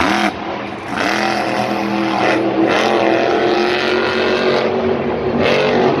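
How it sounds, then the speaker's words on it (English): A monster truck engine roars loudly and steadily during an encore run at a Monster Jam stadium show in Minneapolis, holding high revs with a few brief dips, up close and unbroken by talk. "Jim Kohler is going off right now here in this encore"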